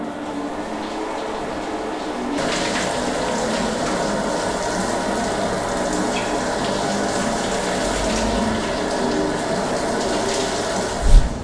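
Shower water runs in a steady, dense hiss that starts stronger after a couple of seconds, ending with a short knock.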